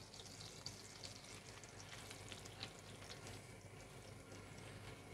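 A schnitzel frying in butter in a pan gives a steady, even sizzle with fine crackles throughout, close and moderately loud, with no talking.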